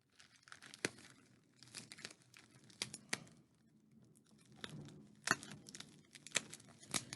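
Packing tape is torn and peeled off a heavily taped sealed package in quiet, close rips and crinkles, irregular and scattered, with no talking.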